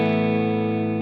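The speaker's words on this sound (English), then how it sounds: "can hear I'm getting a little bit of distortion there" A sustained, heavily distorted electric guitar chord through a Quad Cortex effects loop rings out loud and buzzy, held steady for about a second before cutting off.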